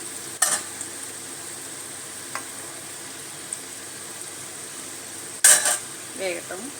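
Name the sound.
murukku frying and sizzling in oil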